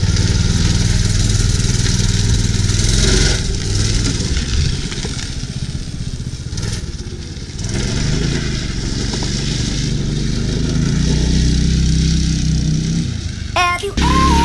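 A small Predator 212cc single-cylinder engine on a drift trike runs steadily and loud nearby, a continuous low rumble with slight rises in revs throughout.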